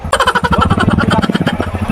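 A motorcycle hauling a heavy load of wood chugs loud and close, its engine firing in a rapid, uneven putter that labors throughout.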